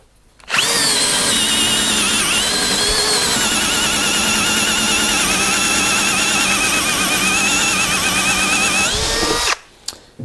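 Bosch GSR 12V-35 Professional cordless drill driver running steadily at high speed for about nine seconds, a loud continuous whine that starts abruptly and cuts off sharply, with no talking.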